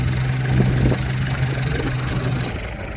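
A tractor engine idles steadily at close range, its low, even rumble holding constant throughout without speech.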